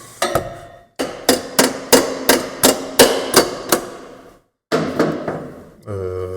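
A small hammer strikes in a steady run of about nine sharp blows during a camper van fit-out fitting a 75 L APLAST grey water tank, then pauses before a few more hits; a voice briefly follows.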